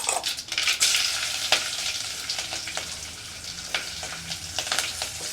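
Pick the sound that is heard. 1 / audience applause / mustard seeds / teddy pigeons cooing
mustard seeds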